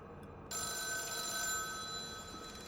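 In the video game The Town of Light, a phone bursts into ringing after a brief quiet moment, a shrill, continuous tone that holds steady to the end, with no voices.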